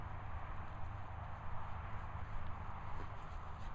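Hooves clop at a steady walking pace over a low background rumble, fairly faint and distant.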